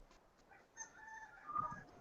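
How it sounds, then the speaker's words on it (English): A faint rooster crow drifts in from a distance, one drawn-out call rising and holding over quiet background noise. "A rooster, yeah, yeah, I heard a rooster from your side."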